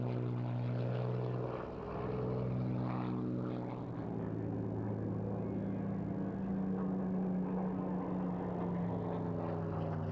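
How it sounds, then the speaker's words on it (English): A Hawker Hurricane Mark IIC propeller fighter flies a solo air show display, its piston engine droning steadily with shifting pitch as it passes overhead, loud and continuous, with no talk. "And we stay with the Hurricane for its solo display."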